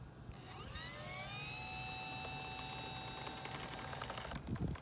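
A radio-controlled model airplane taxiing, its electric motor giving a steady, fairly loud high-pitched whine that rises in pitch and then holds for several seconds before cutting off.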